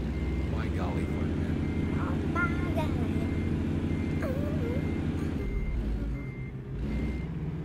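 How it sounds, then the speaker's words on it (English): Steady, evenly spaced reversing beeps from a truck in American Truck Simulator repeat over a constant engine drone, and people talk over them throughout. "How do I back this truck up?"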